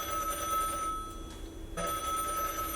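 A telephone rings with a steady, repeating electronic tone close by, alone, with a brief pause partway through.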